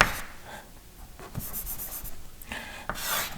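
A pen scratches and rubs across paper in short bursts while an equation is written out, close and fairly quiet.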